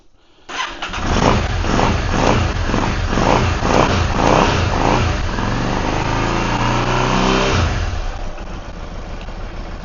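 A Yamaha V-Star 650 motorcycle engine catches abruptly and runs loud and close with a pulsing idle, then rises and falls with throttle before easing to a lower, steady run.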